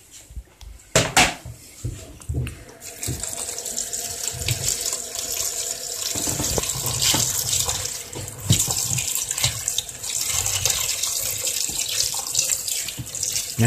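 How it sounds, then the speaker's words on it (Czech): Tap water gushes into a bowl while kimchi is being made in a home kitchen, with dishes and utensils clinking against the sink throughout, steady and close. "Znova napustím vodou."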